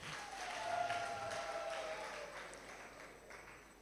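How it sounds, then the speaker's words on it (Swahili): An audience applauding, steady patter of many hands at moderate distance, swelling and then slowly fading over a few seconds. "Mpigieni makofi."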